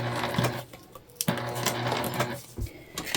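A sewing machine top-stitches slowly over plastic zipper teeth, a close, busy mechanical whirr broken by sharp clicks and brief stops as the needle works through.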